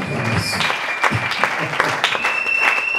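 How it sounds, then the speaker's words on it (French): An audience claps at a foundation gathering in the DRC, with a steady wash of hands filling the moment and a few sharper claps standing out, with no voice on top. "Merci pour vos acclamations."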